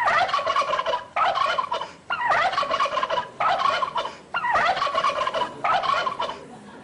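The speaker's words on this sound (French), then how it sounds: "Voilà, c'est le dindon." A turkey gobbles in loud, rapid bursts, six or so close-range calls separated by brief pauses, with no speech over them.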